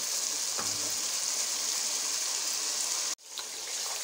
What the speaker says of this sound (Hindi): मसाले की मैंने अच्छी तरह से भुनाई कर लिया।